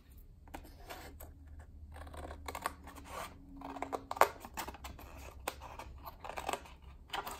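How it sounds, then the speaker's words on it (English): Several crisp snips of scissors cutting through paper, spaced irregularly over a quiet room hum, with one sharper cut midway. "You can cut it with your paper cutter, or you can cut it with your scissors."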